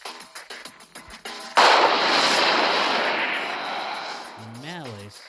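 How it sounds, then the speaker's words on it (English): Gunfire erupts in an otome visual novel game: a sudden loud burst of shots becomes a sustained rushing roar that slowly fades, following some light clicking, with a short rising and falling electronic tone at the end. "Malice armed his gun and fired at Erik, but the bullets never made a target"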